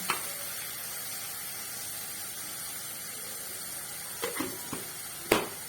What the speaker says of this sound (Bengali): এখন এইটাকে ভালো করে একটুখানি কষিয়ে নেবো, টমেটোর কাঁচা গন্ধটা চলে যাবে